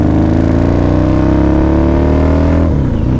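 A 2003 Harley-Davidson V-Rod motorcycle engine revs loud and close on a test ride, a dense throaty roar with rising pitch as it accelerates, then a sharp shift near the end.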